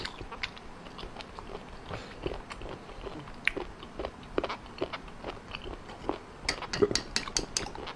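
Close, crisp crunching and biting of raw sea snail shellfish eaten sashimi-style alongside raw squid, a steady run of wet, crackly chews with sharp bites clustered near the end and no talk.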